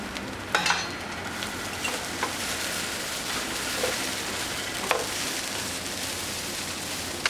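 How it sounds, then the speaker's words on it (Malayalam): Broccoli fried rice with scrambled egg being stirred in a hot pan, a soft continuous sizzle broken by occasional light scraping clicks of the utensil, fairly quiet and without talk. "ഇതിന് പുറത്തേക്ക് എഗ്ഗ് സ്ക്രാമ്പിൾ ചെയ്തത് ഇട്ട് ഇതൊന്ന് മിക്സ് ചെയ്ത് കൊടുക്കാം"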